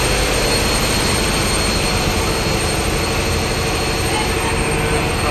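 Engine room of the Mitali 4 passenger launch, a loud, unbroken roar of machinery that stays steady from start to finish.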